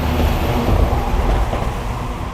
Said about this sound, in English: There was a truck that drove by, kind of loud